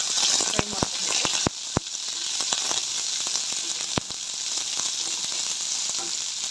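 Cumin and onion fry in a pan as the base for a paneer masala, giving a steady close sizzle broken by a few sharp clicks and scrapes of a spoon against the pan, with no talk.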